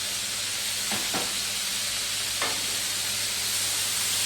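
Vegetables sizzle on a hot Blackstone griddle with a steady, loud hiss filling the whole stretch, with a few soft scraping strokes breaking through now and then.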